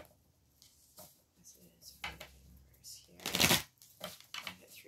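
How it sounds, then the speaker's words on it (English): Tarot cards are shuffled by hand in soft riffling bursts, with one loud close riffle in the middle, while someone talks quietly between them. "Gonna shuffle now, and then we'll get into the pick a card."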